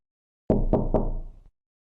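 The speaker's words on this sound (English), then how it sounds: "the knocking, 3 soft, evenly paced knocks, just like before," Three soft, evenly paced knocks sound on a front door, close and distinct, followed by silence.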